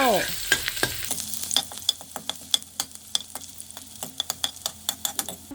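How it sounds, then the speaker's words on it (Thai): Garlic frying in hot oil in a pan, sizzling steadily while a utensil scrapes and clicks against the pan in a quick irregular rhythm, close and clear with no talking. "ตั้งน้ำมันไว้ห้อนแล้วก็เอาหอมขาวมาลงเจียวเลยเจ้า"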